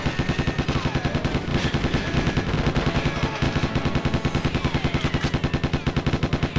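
Enemies in Goldfinger 64 fire guns nonstop: a rapid, evenly spaced stream of automatic gunshots pulses steadily for the whole stretch, loud and close, with other overlapping shots mixed in and no talking.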